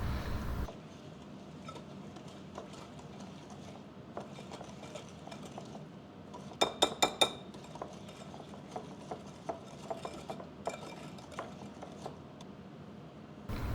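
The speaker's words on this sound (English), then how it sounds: "with the butter and sugars, we're just going to whisk them together until they're nice and combined" Butter and brown and white sugar whisked together in a bowl for cookie dough, a quiet irregular scraping and clinking with a few sharper taps, close and without talking.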